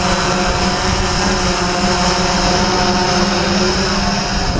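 A Typhoon H hexacopter drone hovers and tracks a walking person, giving off a steady, loud whir of rotors that holds without a break, with no voices over it.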